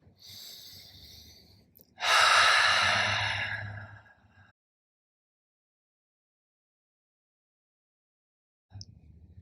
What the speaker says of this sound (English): A couple cleansing breaths with me.